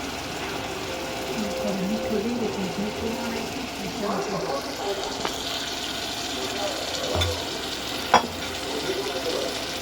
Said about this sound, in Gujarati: અને પછી આ રીતે આપણે હલાવશું.